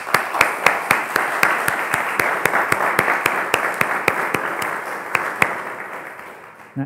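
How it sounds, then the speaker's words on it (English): An audience applauds new Eagle Scouts at a Court of Honor, a moderate round of clapping with one set of sharp, evenly spaced claps standing out near the microphone before it tapers off. "Let's have a round of applause."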